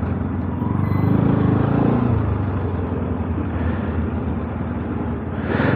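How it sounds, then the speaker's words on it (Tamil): A vehicle rumbles loudly and steadily on a road near Bandipur Forest, a sustained close engine drone with no speech. "ஐயோ வண்டி வருதுங்க."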